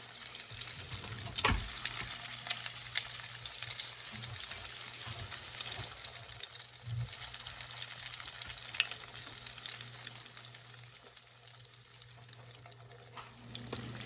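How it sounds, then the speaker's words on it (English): Salmon croquettes fry in oil in a pan over medium heat, giving a steady, close sizzle and crackle with a few light clinks and nobody talking. "They've been frying on this side for about maybe 2 minutes"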